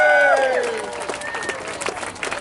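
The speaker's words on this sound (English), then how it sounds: "So a big round of applause for our French Canadians" A crowd applauds French Canadians at a speaking event, broad sustained clapping that follows a trailing voice and then continues on its own, fairly loud and diffuse.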